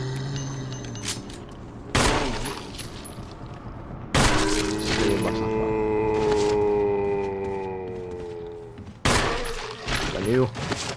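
Gunshots from the Resident Evil Remake video game crack out in three sharp, loud bursts, each followed by a ringing decay, with game sounds and ambience between them.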